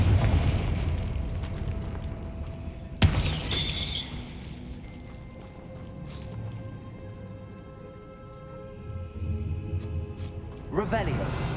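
In Hogwarts Legacy, a Confringo spell lands with a sudden sharp explosive burst, followed by rumbling and softer game sounds, with voices talking through much of it.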